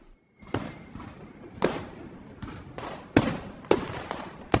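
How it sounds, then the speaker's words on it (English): Fireworks crackle and guns bang outside a palace at a celebration, giving six or seven sharp, loud bursts at irregular intervals, each with a short crackling tail, and no voices. "fireworks crackled and guns banged"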